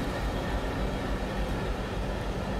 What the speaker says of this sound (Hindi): देखिए ये स्पेशल ट्राई कलर लोकोमोटिव, मेरे ख्याल से ये WDP 3A है शायद